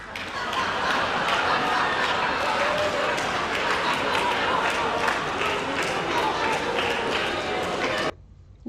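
Dense, continuous crowd applause from a large audience at a political address, a steady loud wash of many hands clapping that runs for about eight seconds, then cuts off abruptly.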